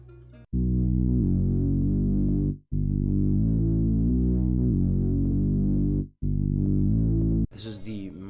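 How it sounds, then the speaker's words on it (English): A Mercenary bass sample carries a beat as loud, sustained, distorted low notes that throb and shift pitch in long phrases with brief gaps between them. A short burst of different sound arrives at the end. "This is the Mercenary bass."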